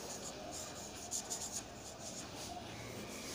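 A pen writing out an example sentence on paper for an English grammar lesson, giving soft, quiet scratching strokes that form a brief flurry in the middle.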